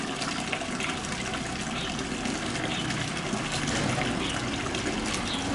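Steady running water splashes continuously while cabbage is washed for a spicy-sour stir-fry, a close broadband gush with no talk over it.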